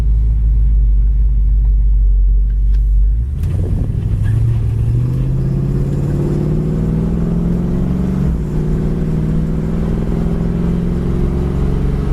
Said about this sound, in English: Car sounds great, runs good, drives good, gets right up to speed.